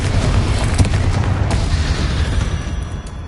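A Confringo spell detonates in the Hogwarts Legacy video game, a loud heavy boom with a rumbling low-end blast that rolls and decays over a few seconds.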